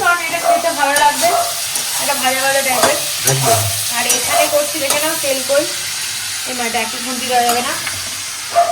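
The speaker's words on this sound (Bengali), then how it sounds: "এই কই মাছ ভাজা হয়ে গেছে" Koi fish fry in a pan with a loud, close crackling sizzle and stirring, while a voice talks over the cooking.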